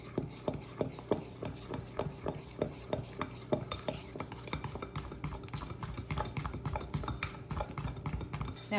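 A spoon stirs a thick mixture in a bowl with a rapid, regular run of soft scraping clicks that continues throughout, close and moderately quiet. No speech is heard.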